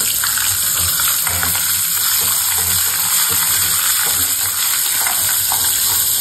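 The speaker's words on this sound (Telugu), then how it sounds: "ఇప్పుడు మనం పచ్చిమిర్చి ఎండుమిర్చి ఆవాలు జీలకర్ర కూడా యాడ్ చేస్తున్నామండి" Green chilies, dried red chilies, mustard seeds and cumin sizzle hard in hot oil, a loud, continuous crackling fry with pops and spits throughout, close by and unbroken by talk.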